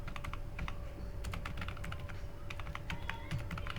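Steady rapid keystrokes on a computer keyboard while someone writes Python code, with close, continuous clicking and uneven rhythm and no talk.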